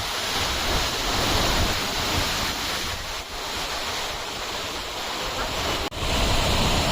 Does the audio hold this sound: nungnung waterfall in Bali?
yes